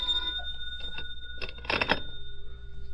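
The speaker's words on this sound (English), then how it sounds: "It was about 4 in the afternoon when the phone rang." A telephone bell rings in a single short burst against a quiet room tone with a faint steady hum, part of an old radio detective drama.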